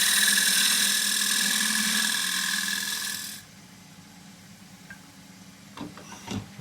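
An oak treasure box spins on a wood lathe while a 3/8 spindle gouge makes sweeping cuts, giving a loud, steady, hissy cutting whine. After about three seconds it stops abruptly, leaving a quiet hum and a few light knocks.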